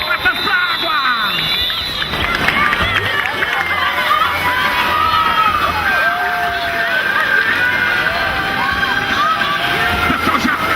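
Beachside crowd noise at the swim start of a triathlon in Caiobá, with steady cheering, shouting and chatter from many spectators. Loud and continuous throughout, with voices mixed in.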